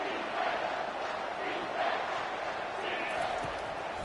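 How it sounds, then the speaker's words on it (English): A college football stadium crowd in the video game College Football 25 roars during a red zone defensive stand, a steady, dense wash of distant noise with a commentator talking over it. "This crowd is trying to inspire this defense to make a big red zone stop."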